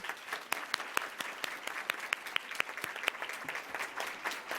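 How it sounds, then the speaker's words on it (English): An audience at a live panel event claps warmly in a sustained round of applause, dense overlapping hand claps with a few sharper individual claps standing out, steady throughout at moderate loudness. "Another warm round of applause for Fran Frazier, Camille Quinn, Aaliyah Hor"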